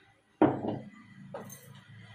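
A cooking pot set down on a home kitchen stove before oil and spices go in for saaru, landing with one sharp clank that rings briefly, followed by a softer knock about a second later.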